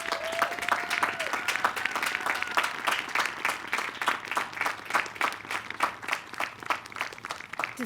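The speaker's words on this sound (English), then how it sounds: "Can I get a round of applause for everyone we just welcomed here?" Graduation ceremony audience applauding steadily, dense rapid clapping from a crowd throughout with a faint tone early on, no speech.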